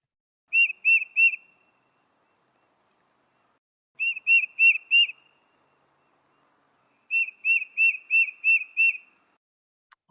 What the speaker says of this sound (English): It is a tufted titmouse.